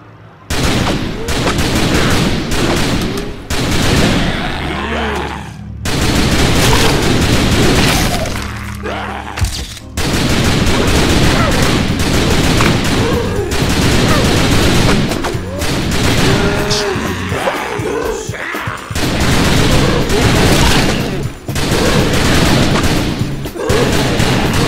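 Dense, loud gunfire from the zombie shooter game The Typing of the Dead: Overkill, with rapid volleys, booms and shattering hits packed together almost without pause, game voices mixed in.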